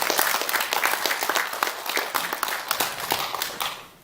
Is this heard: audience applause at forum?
yes